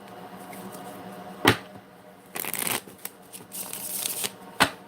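Tarot cards being shuffled close by in a few quick riffling bursts, with sharp snaps between them and no talking.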